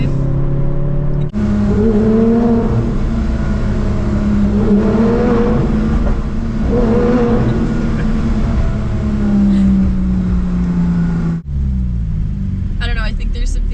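A Porsche GT3 or Audi R8 accelerates hard from inside the cabin, a loud engine roar rising in pitch through several gear pulls for about ten seconds before cutting off abruptly.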